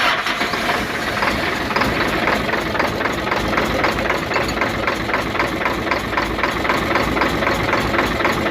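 Hino truck diesel engine idling with one injector pipe loosened, a loud, close, steady knocking rumble with a rapid even clatter that continues throughout without pause.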